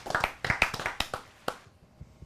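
Scattered hand claps from a few people in a small room, quick uneven claps that thin out and fade after about a second and a half, fairly quiet.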